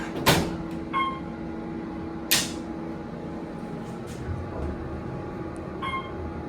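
Doors of an Otis Series 1 hydraulic elevator in a hotel and conference centre slide with soft rumbling, punctuated by a few sharp clunks and faint chimes, heard close over steady background hum.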